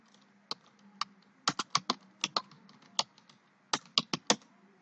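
Keys on a computer keyboard are tapped in short bursts, crisp close clicks with small pauses between groups, as text is entered into a form field in a quiet room.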